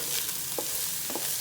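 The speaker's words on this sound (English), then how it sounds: "I'm gonna put this garlic in here that I chop up. I'm gonna let this just saute for a minute" Chopped garlic sautés in a Power XL cooker, a steady close sizzle of frying with a couple of brief stirring scrapes, alone without talk.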